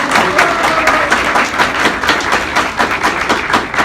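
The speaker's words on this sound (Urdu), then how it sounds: "تالیاں بجائیے پرزور" Indoor audience at a college certificate awarding ceremony claps in rapid, dense bursts, a close and lively wash of applause that pulses steadily throughout.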